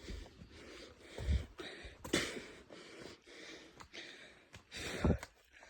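Heavy, labored breathing from a hiker climbing uphill on a trek to Rani Jhari viewpoint: close, uneven gasps and sighing exhales in bursts, with no talking.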